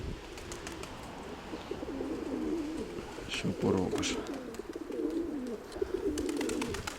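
Pigeons in a December loft coo softly in rolling, repeated calls at moderate distance, with someone speaking briefly over them.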